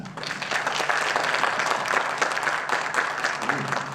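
A seated audience claps steadily to welcome a guitarist at an evening masterclass performance, a dense, even round of applause throughout.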